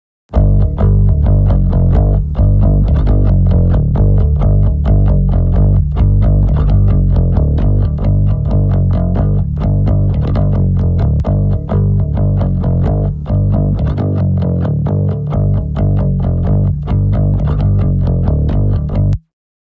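A deep direct-input bass guitar plays a steady, driving line with a heavy sub-bass layer beneath it, loud and continuous throughout.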